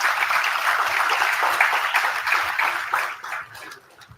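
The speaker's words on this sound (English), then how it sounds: "So I want to lead a round of applause for each one of you who's sitting here in this room" Steady audience applause from a room of students and parents at a B.Tech inauguration ceremony, sustained clapping that gradually thins and softens toward the end.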